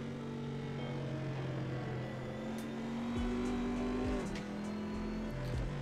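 Turbocharged BMW race car in Assetto Corsa, its engine droning steadily through the revs with pitch climbing, then dropping sharply at a shift before rising again, a continuous loud sim-racing engine tone with no talking.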